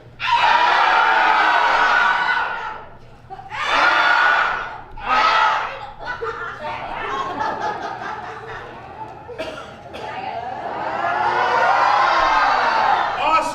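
An audience at an improv comedy show yells and cheers in loud bursts, with rising shouts, screams and laughter that swell, drop away and surge again near the end.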